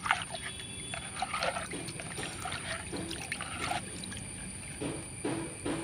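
Slightly soured rice water, about 300 ml, pours in a steady trickling stream, its splashy gurgle rising and falling in short bursts close to the microphone with no talking.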